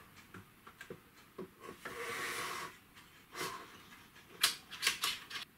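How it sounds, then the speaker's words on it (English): A Radeon Pro W5700X MPX graphics card module is pushed into its slot in a Mac Pro, giving scraping, rubbing slides and a few sharp clicks and knocks near the end. The sounds are close and fairly quiet, with no voice over them. "let's go ahead and put the 5700X in. Slide this baby in."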